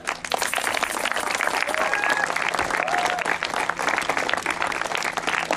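Steady, dense crowd applause for medieval reenactment knights at a traditional heritage day, clapping continuously at an even level with faint voices underneath.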